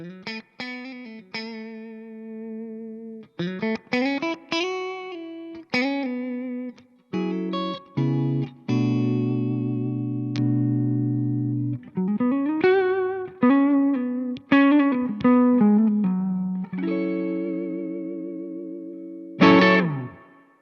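Electric guitar played through a Laney Lionheart Loudpedal with heavy pedal distortion rings out in loud chords and picked notes, some sustained and some choppy, with gaps between phrases.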